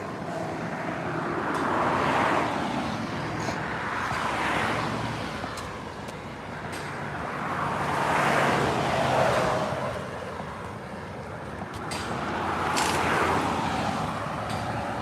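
Highway traffic roars past in slow repeated swells as vehicles approach and recede, a loud continuous rushing wash heard from beside the road with no talk.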